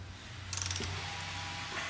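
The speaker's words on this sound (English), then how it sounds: "Now we're just gonna torque them." A ratchet wrench clicks rapidly for a short burst while torquing small bolts into a HeliCoil thread repair, near and clear over a low steady hum, with no talking.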